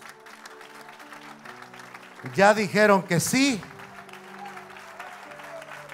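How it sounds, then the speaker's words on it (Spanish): A church congregation applauds during a wedding ceremony, the clapping a scattered, moderate patter running throughout while someone speaks loudly over it in Spanish for a few seconds midway. "Dele un aplauso a Jesús."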